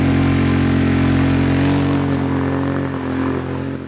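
A stock 2022 Indian Chief motorcycle engine runs loud and steady while riding, with a low, continuous rumble that eases off slightly toward the end.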